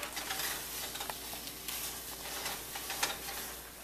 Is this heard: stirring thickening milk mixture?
yes